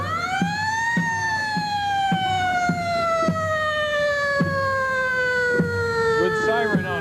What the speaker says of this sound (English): Good siren on it again, Mike.